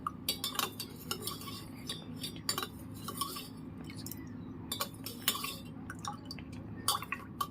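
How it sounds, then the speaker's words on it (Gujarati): Buttermilk stirred in a vessel for masala chaas, soft liquid swishing with repeated clinks of a spoon against metal, quiet and close, no talking. "આ છાશને આપણે આ રીતના મિક્સ કરી લેવાની છે।"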